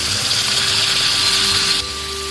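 Finely chopped tomato frying with browned onion in a pan for a Konkan-style cashew curry, a loud steady hiss and sizzle that drops abruptly in level near the end, with no talking.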